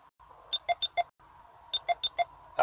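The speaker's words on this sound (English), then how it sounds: "That beeping sound reminding you there to take the faceplate off on a Sony" A Sony aftermarket car radio in a 2000-2006 Vauxhall Corsa C gives its remove-the-faceplate reminder after the ignition is switched off: two bursts of four sharp electronic beeps over a faint low hum, alone and close.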